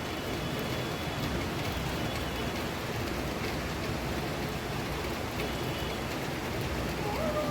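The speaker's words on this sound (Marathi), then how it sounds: "आणि पाऊस कंटिन्युअसली सुरूच आहे." Steady, continuous rain hissing evenly throughout, a dense wash of drops with no pauses and no voices.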